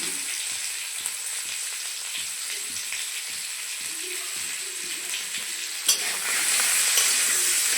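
Pointed gourd frying in oil with turmeric and salt in a home kitchen, a steady close sizzle with occasional stirring scrapes and a louder burst near the end.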